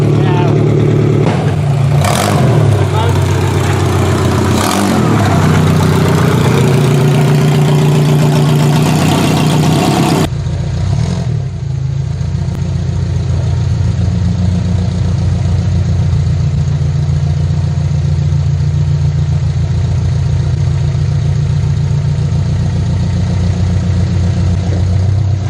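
A derby car engine idles loud and close at an oil change bay, a steady low rumble with a brief rev near the start. People talk over it early on.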